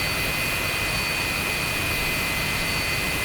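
Steady, loud jet engine roar with a high whine from a Pakistan Air Force F-86F Sabre as it taxis along the runway, continuous and close throughout.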